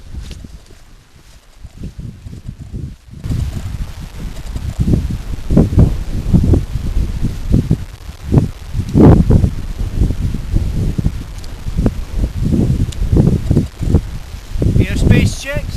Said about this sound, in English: We've got a fairly decent fresh wind